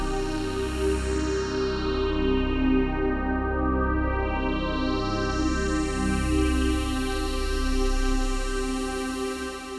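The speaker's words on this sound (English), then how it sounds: "fade up that stereo reverb as the chord is held" A sustained mono synthesizer chord held steady while a stereo chorus reverb is faded up in real time, the sound growing wider and washier with shimmering swirls toward the end, in an 80s horror-style synth track.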